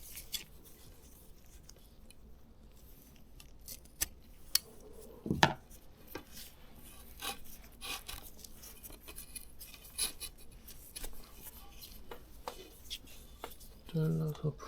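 Scissors snip through the mesh fabric of a Korean hand fishing net (jokdae) during a repair, making sparse, quiet cuts and clicks with small handling rattles in a hushed room.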